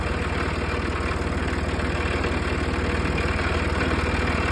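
A tractor engine idles loudly and close by, a steady, even low chugging throb that holds unchanged throughout, with no voices.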